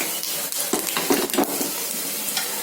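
Fennel seeds sizzle and crackle in hot ghee, stirred in a pan with scattered close, faint pops and scrapes and no voices.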